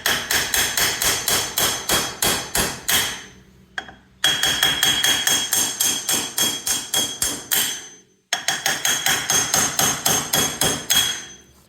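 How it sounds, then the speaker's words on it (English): Standard steel hammer tapping repeatedly on a Polaris Sportsman 570 ATV's wheel hub, loud close metallic strikes in steady quick bursts of about a dozen blows, separated by two brief pauses. "I just got a standard hammer."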